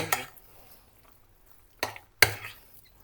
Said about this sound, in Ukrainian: І це все гарно, ретельно ми її перемішуємо.